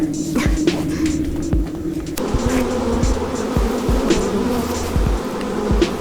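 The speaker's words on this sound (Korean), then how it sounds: "상상을 초월하는 파리의 군세가 연구소 전체를 뒤덮고 있다." A huge swarm of flies buzzes inside a laboratory, a dense, continuous droning hum close to the listener with a few faint knocks and ticks beneath it and no voices.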